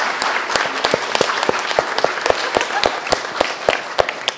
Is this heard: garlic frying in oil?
no